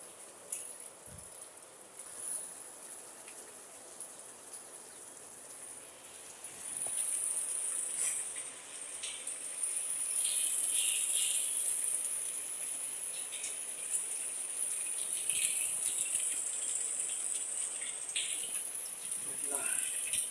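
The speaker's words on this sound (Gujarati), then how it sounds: "બહુ વરસાદ ચાલુ છે" Heavy rain falls steadily during a monsoon downpour, a dense hiss and patter that grows louder after the first few seconds and continues without a break, close and enveloping.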